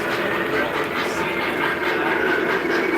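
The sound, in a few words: model trains running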